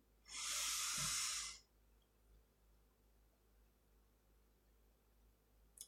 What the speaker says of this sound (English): So let's take our first deep breath in.